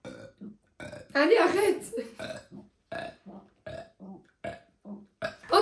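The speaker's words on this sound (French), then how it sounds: "Vous savez que j'ai roté sur commande." A person belches on command during a casual burger tasting, with several loud, gravelly burps mixed in among short stretches of French conversation.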